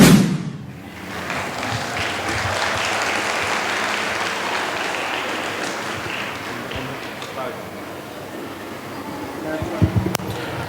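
Audience applause at a school event on stage, welcoming a performing family; steady broadband clapping sustained for about ten seconds, moderately loud and close, with a few sharper taps near the end.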